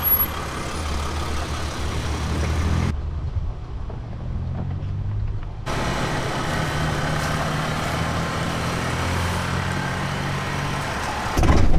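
A camper van drives on a dirt road through a palm forest beside basalt cliffs in Baja, giving a steady loud rumble of engine and road noise with wind buffeting throughout, and no talk.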